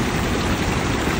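River water at Pavnar flows with a steady, dense rushing wash that stays constant and fairly loud, with no voices.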